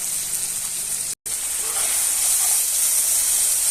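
Chicken meat simmering in a pot gives a steady, loud, broad hiss and sizzle that runs unbroken except for one brief dropout, with no talking.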